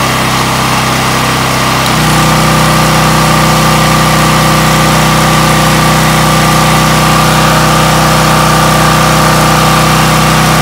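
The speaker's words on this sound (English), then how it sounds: "Now we're going to go put the generator under a load, 1500 watt heat gun on the high setting." A loud, close generator engine drones steadily, its pitch and load shifting audibly after a couple of seconds as a 1500-watt heat gun on high kicks in, then holding constant.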